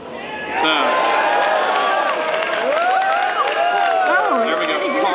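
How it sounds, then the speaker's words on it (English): Audience applause and cheering at a Hasbro Star Wars brand panel, Twin Suns Stage at Star Wars Celebration Japan; a loud, sustained crowd swell begins after a brief quiet start, with voices and whoops mixed through the clapping. "Pause for applause"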